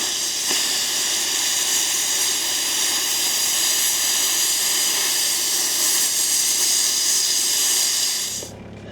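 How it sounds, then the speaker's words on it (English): Steady roaring hiss of a cutting torch burning through a bolt head on a farm implement, loud and continuous for several seconds before cutting off abruptly near the end. "I think I might try to torch that bolt head off."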